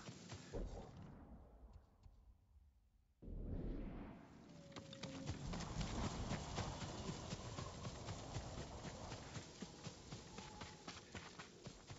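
Horse hooves from the video game Ghost of Tsushima, a steady clip-clop of a horse walking and trotting through a forest, heard up close over ambient game sound with no talk.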